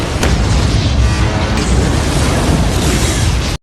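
A grenade explodes inside an alien's mouth, a loud, sustained boom and roaring blast that fills the whole moment before cutting off abruptly.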